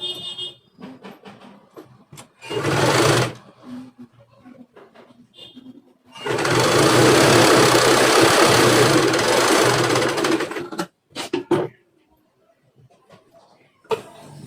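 Sewing machine stitching the back of a boat neck blouse, two bursts of steady whirring: a short run of about a second near the start, then a longer run of about four seconds, with quiet handling between.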